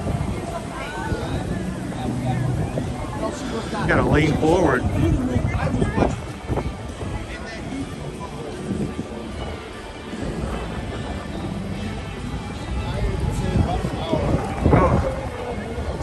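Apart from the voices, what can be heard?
strong wind blowing into microphone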